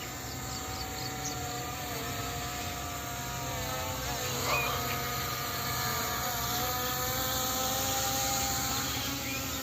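A P18 Pro camera drone flies nearby, its propellers giving a steady high-pitched buzzing whine that holds level for about ten seconds, with a slight pitch shift midway and no voices over it.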